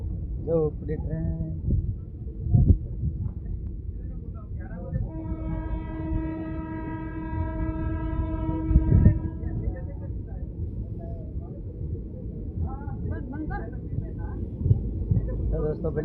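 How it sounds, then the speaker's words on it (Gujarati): A departing train sounds its horn in a long sustained blast over a steady rail rumble, heard from on board amid chatter and voices of people talking nearby throughout. "અને આપણે ટ્રેન ઉપડી ગઈ છે."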